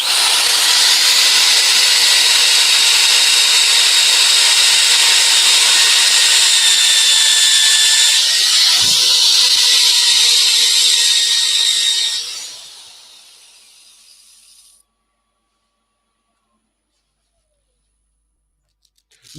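A power sander with a worn sanding pad works yew wood in a loud, steady high whine that runs for about twelve seconds, then winds down and cuts off into silence.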